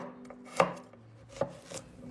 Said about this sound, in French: On va ensuite prendre la carotte, la couper en deux et les couper en petits morceaux